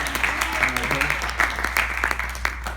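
An audience at a talk claps for a person named Hector, a moderate ripple of applause with individual claps standing out while a voice speaks over it.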